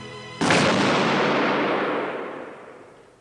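A firing squad lets off a single rifle volley: one sharp, loud, simultaneous crack that hangs in a long echoing decay over several seconds.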